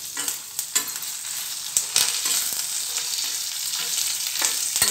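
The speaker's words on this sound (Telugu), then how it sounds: "ఈ ధనియాలు వేగితే ఇంకా ఆపేయచ్చు అన్నమాట ఎర్రగా వేగితే" Mustard seeds, cumin, fenugreek, curry leaves, urad dal and coriander seeds frying in hot oil for a roselle chutney: a loud, close, crackling sizzle with sharp pops and stirring scrapes, continuous throughout.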